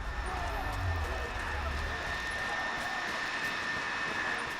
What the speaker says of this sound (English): that helicopter just came down.